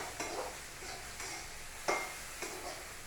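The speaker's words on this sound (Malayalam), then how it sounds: "ഇത് വെളിച്ചെണ്ണ ഒഴിച്ചു, വറ്റൽമുളക് ഇട്ട്, വറ്റൽമുളക് മൂത്തപ്പോൾ" Dried red chilies fry in coconut oil, a soft steady sizzle broken by a few faint stirring scrapes and one sharper clink near the middle, with no voices.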